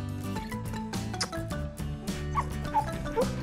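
Dogs from a cartoon pet game give quick, high yips and short barks in a busy cluster, close and bright over a musical background.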